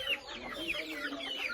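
Chickens pecking at banana heart give soft, continuous clucks, faint and close, with no voices over them.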